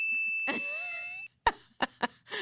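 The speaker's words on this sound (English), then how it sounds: "That's all we have to say to get a bell, OG Andrew" Bright bell ding sound effect played on a morning talk show, a clear sustained ringing tone followed by a few short sharp knocks and noises.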